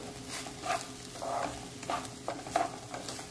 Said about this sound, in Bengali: এবার কিন্তু চালটা ভাজতে ভাজতে নুন দিয়ে দেবো পরিমাণ মতন, দিয়ে ভালো করে নাড়বো